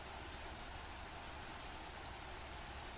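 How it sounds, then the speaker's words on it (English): Heavy rain in the video game Mamiya pours steadily as a dense, even hiss of drops with no breaks, faint and continuous on its own. "He sighed while the heavy rain drenched his dark, inky locks."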